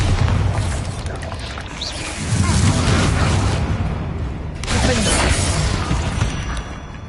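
Heavy booming blasts of the Bombarda explosion spell in the Hogwarts Legacy video game, two loud rumbling bursts in a busy battle mix, with a voice speaking over the noise.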